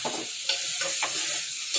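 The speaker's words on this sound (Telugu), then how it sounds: "ఆయిల్లో మంచిగా ఉడకాలి." Mutton keema frying in oil in a pan, a steady high hiss of sizzling broken by a few soft scrapes and stirring clicks, close by with no voices.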